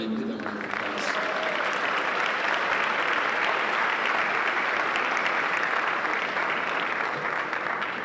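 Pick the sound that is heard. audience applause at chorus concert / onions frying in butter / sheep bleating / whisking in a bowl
audience applause at chorus concert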